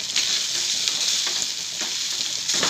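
Fried rice sizzles and fries in a hot kadhai, a loud, continuous crackling hiss with faint stirring scrapes, heard close up with no talking.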